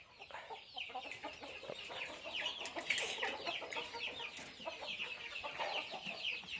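Chickens cluck and chatter continuously at moderate distance, a busy flock of overlapping calls with no talking.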